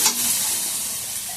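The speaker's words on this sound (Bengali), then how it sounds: "আমি এবার জল দিয়ে দেবো।" Sizzling of soybeans and potatoes frying in a pan as water is poured in, a loud steady hiss filling the short moment close up with no voices.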